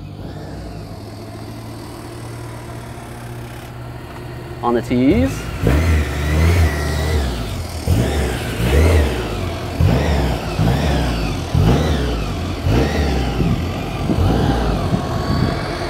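A BMW M3 with the S65 engine idles, then blips and revs in several rising bursts at a car meet. It sounds close and loud, with a brief voice over it.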